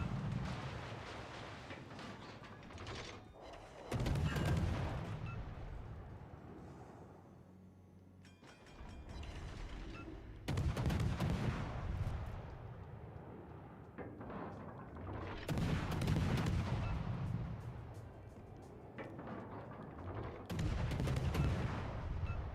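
Naval gun salvos from warships in World of Warships: Legends boom out four times at roughly five-second intervals, each a heavy, loud blast trailing into a long rumbling decay.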